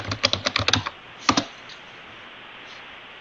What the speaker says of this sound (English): Then I'm going to enter my password for the database.